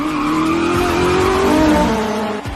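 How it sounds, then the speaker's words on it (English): Race cars roaring close by with rising engine tones and squealing tires, a loud sustained howl that climbs and blends over a couple of seconds before cutting off sharply. "Behind me, the roar of other race cars grew closer."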